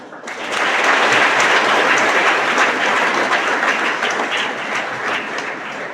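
An audience claps loudly and continuously, a dense burst of applause that swells in quickly, holds strong, then eases slightly toward the end, with no talking over it.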